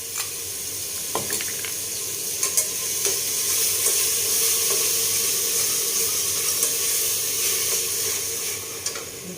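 Steady bubbling and simmering of liquid boiling in a pot, a continuous hissing, sizzling wash with occasional small pops and clinks, close by.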